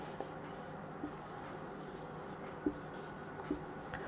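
A pen scratches steadily across paper while a diagram is drawn for a lesson on syllogisms, with a constant rubbing texture and a few louder taps along the way.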